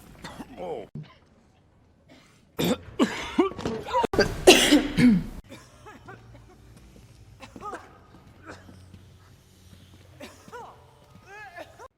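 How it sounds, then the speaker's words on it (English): A woman coughs in a movie scene, a few harsh loud coughs in a burst midway, surrounded by quieter dialogue and soft background sound. "She has a terrible cough."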